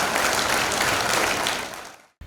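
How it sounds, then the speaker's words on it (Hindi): Loud, full applause from a TV show audience for the participants at a grand finale, a dense wash of clapping that fades out and cuts off abruptly near the end. "एक बार जोरदार तालियां सभी पार्टिसिपेंट्स के लिए प्लीज"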